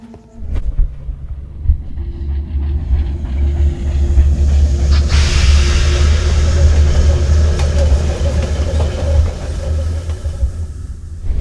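A train passes in the Sherlock Holmes: Crimes and Punishments video game: a loud, steady low rumble and throbbing that swells after the opening second and holds throughout, with a faint hiss above it.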